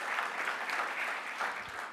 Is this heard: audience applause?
yes